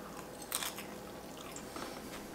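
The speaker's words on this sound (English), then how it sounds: "Could you hear the crunch?" A crunchy bite into an egg fried in a seasoned cast iron skillet, its crisp edges giving one sharp close crunch followed by quieter chewing in a near-silent room.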